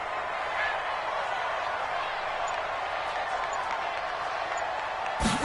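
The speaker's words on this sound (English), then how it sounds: "the crowd getting into it as we come up on a big third down" Steady, dense roar of a stadium crowd at an NFL football game featuring the Dallas Cowboys, sustained at even loudness as it builds before a big third down, with a brief sharper burst near the end.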